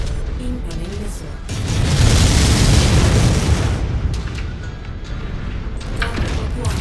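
A missile explosion in MechWarrior 5: Mercenaries: a loud, rumbling blast swells and holds for a couple of seconds under constant battle noise before it fades back to the steady din.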